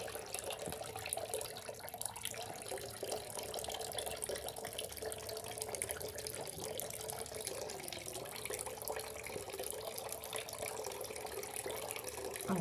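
Fresh milk streams straight from the cow into a clay pot, making a continuous splashing, gurgling pour that stays fairly steady and close from start to finish, without speech.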